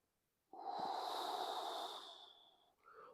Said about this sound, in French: On inspire à fond.